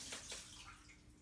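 Soaking water is poured out of a jar of soaked nuts, a faint, brief splash and trickle of liquid, quiet and close, with no voices.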